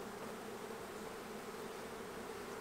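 Honey bees buzzing around brood frames in a small hive, a steady, continuous, faint hum with no breaks and no voices.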